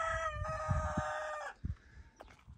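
Chickens clucking and a rooster crowing loudly nearby in a village farmyard in Kalburcu, Kocaeli, Turkey, the crow drawn out for over a second, followed by scattered clucks and faint farmyard noise.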